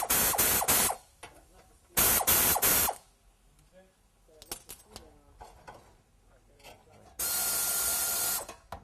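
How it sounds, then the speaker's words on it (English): Phillips head screws and bolts are taken off the bumper cover of a 2002 Nissan Xterra. Loud bursts of power driver whirring alternate with quieter metallic clicks and handling noises, close by. "there's 2 Phillips head screws right on the side here. You're going to want to take them off."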